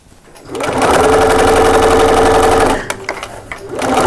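Sewing machine stitching a fabric drawstring bag, a loud steady whirring run of needle strokes lasting a couple of seconds, then a pause with small clicks before the motor starts again.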